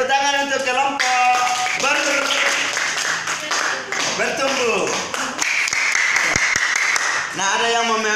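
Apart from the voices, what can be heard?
class clapping for a group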